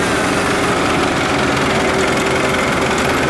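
A loud, rough old tractor engine starts and runs steadily up close after sitting idle about four weeks, chugging and knocking with a rapid mechanical rhythm and no voices over it.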